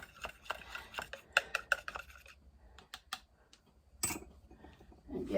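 A spoon clinks and taps against a bowl while egg wash with a double yolk is mixed, giving quick, irregular clicks in short clusters, then a few scattered taps with brief pauses.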